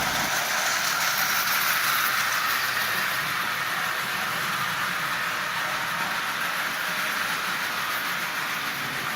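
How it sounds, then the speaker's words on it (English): A Lionel model locomotive, fitted with a DC can motor and running on AC track power, circles its rail at constant speed, giving a steady close whirring hum with rail rumble throughout. "As you see, it runs perfectly. No problem at all. Good constant speed all the way around the rail."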